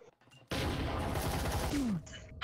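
Rapid automatic gunfire in a VR shooter video game bursts out as one dense, loud volley lasting about a second and a half, then stops abruptly, with faint game noise before and after.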